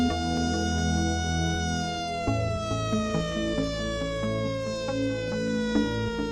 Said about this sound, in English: it's only a fire engine.